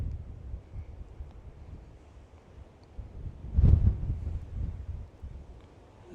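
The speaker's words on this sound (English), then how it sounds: "A little bit windy to hold the iPhone still today." Wind buffets an iPhone microphone on a hilltop at Mow Cop, a low rumbling roar with one stronger gust midway, no voices.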